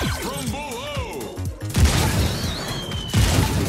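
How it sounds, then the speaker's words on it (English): Shotgun blasts aimed at robots in the Robo Recall VR game: two heavy booming shots, one midway and one near the end, over warbling electronic robot tones and game noise. "Shotgun."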